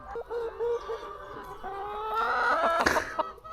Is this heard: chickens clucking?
yes